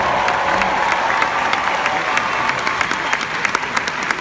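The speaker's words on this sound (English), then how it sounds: "Give Danny here a big round of applause" An audience breaks into steady, close applause for Danny, a dense wash of many clapping hands with a few sharper claps near the end and no speech over it.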